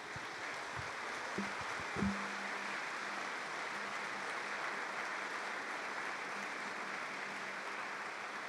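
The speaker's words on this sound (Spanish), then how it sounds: "¿Le puede dar un buen aplauso a Jesús?" A church congregation applauding, heard as a faint, steady wash of many hands clapping at a distance that holds evenly throughout, with a couple of brief low knocks near the start.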